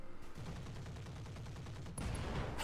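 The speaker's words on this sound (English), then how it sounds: "Wow, look at the explosion." Explosions and heavy weapons fire from light machine gun arrays in the mech combat video game Roguetech: a rapid rumbling string of blasts, then a sharper burst near the end.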